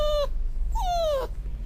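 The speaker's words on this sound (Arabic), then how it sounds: "ده بقى كلب بيعيط" A dog cries out in two high, wavering whimpers, a short yelp followed by a longer falling whine, close and clear over a low background rumble.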